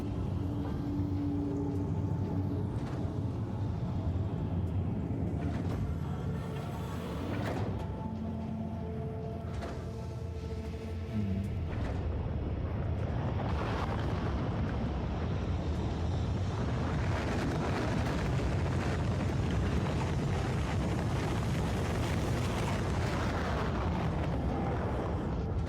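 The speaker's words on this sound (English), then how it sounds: "Send the rocket." A rocket launch in Factorio: Space Age, a steady loud roaring rumble that holds throughout and swells into a broader, harsher blast in the second half, with no voices over it.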